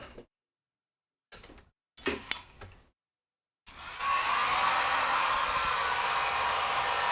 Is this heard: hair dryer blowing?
yes